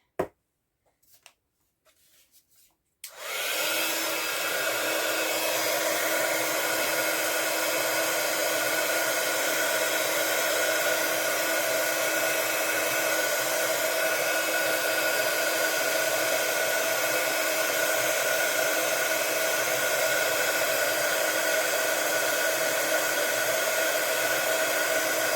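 A few light clicks and taps, then a heat tool switches on and blows a loud, steady whooshing roar over embossing powder, unbroken and close for over twenty seconds.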